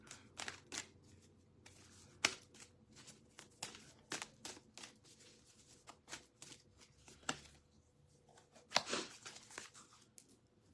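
Oracle cards shuffled and flicked by hand during an energy reading: quiet, crisp riffling snaps and papery flutters repeating unevenly for about ten seconds, with no voices.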